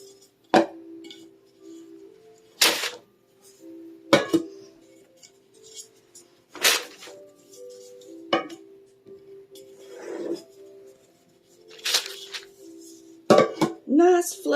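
Cake pans tipped out onto parchment paper for a fluffy white coconut cake, giving several sharp metallic clinks and knocks spaced a few seconds apart with quiet gaps, close and fairly crisp.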